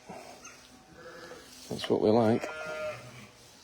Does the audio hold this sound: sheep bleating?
yes